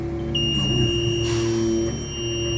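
A TIDD PC28 pick-and-carry crane's Slew Safe overload warning sounds as a steady electronic beep that starts early and holds over the engine's low hum.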